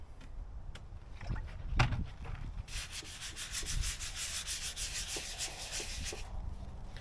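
Rust preventative being wiped by hand onto an aftermarket 4Runner/Tacoma bumper, a steady close rubbing and sanding-like scrub that starts after a few scattered knocks and continues for several seconds.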